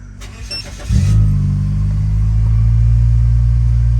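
A 2004–2006 Scion xB's engine cranks briefly and catches, then settles into a loud, steady idle rumble close by.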